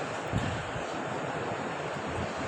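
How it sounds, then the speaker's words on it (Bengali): Potatoes fry in hot mustard oil in a pan, making a dense, steady sizzling hiss close by with small crackles and no speech. "তারপরে আমরা আলুটা দিয়ে দিলাম কারণ আলুটা সুন্দর মতন ভাজতে হবে"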